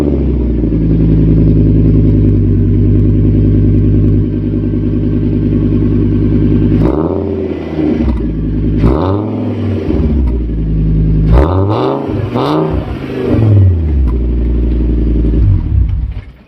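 A Fiat Stilo 2.4 five-cylinder Michael Schumacher Edition engine idles loudly and steadily, then blips through several sharp revs that rise and fall, with no talking.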